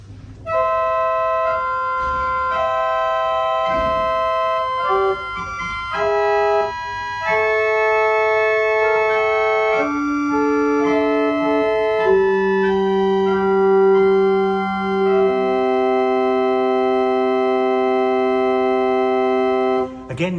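Bright church pipe organ tones on a 4-foot octave stop, a melody and held chords played steadily, clear and close with a spacious ring.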